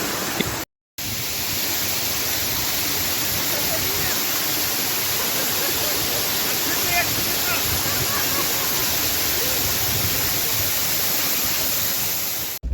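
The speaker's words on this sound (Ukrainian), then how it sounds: "Подивіться, як білий потік води розбивається об скелі." Waterfall on the Manyavka river in the Carpathian mountains near Yaremche, its white stream crashing onto rocks; a loud, steady, close roar of rushing water runs throughout, broken only by a very short dropout near the start.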